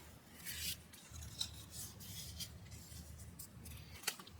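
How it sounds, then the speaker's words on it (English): Scored paper for a wedding album being burnished by hand, soft quiet rubbing strokes in a few short passes with one small tap near the end. "And then just burnish that."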